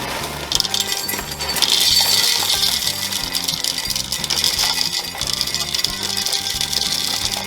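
Dry cereal pours from a large bag into a glass jar, a loud continuous rattling rush of pieces striking glass and each other, close up with no voices.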